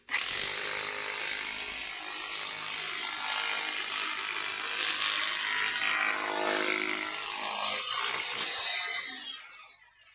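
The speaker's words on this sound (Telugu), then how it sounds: "రాయి కూడా దొలిచేస్తుంది" A drilling machine bores into rock, giving a loud, sustained high grinding whine that holds steady for about ten seconds before tapering off at the end, with no speech.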